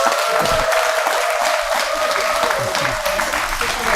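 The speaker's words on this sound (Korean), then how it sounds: "이승현 회장님께 감사의 큰 박수" An audience at a CEO lecture series held at Jogyesa temple gives the lecturer steady, sustained applause, dense clapping filling the room for the whole stretch.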